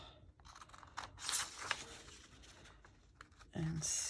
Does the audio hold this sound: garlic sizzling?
no